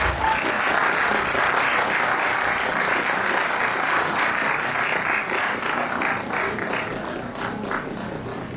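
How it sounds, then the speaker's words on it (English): An audience at an investor education and protection workshop claps steadily for several seconds as a memento is presented on stage, a dense even wash of applause that slowly thins toward the end. "Can we have a round of applause, please?"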